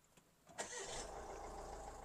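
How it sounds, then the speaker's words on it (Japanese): A Citroën car engine cranks briefly and catches, then settles into a steady, close idle hum. "このようにエンジンをかけていただいて"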